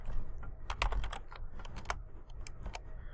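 Quick bursts of keystrokes on a computer keyboard, a dense cluster of clicks in the middle followed by scattered taps, close and fairly quiet with no talking.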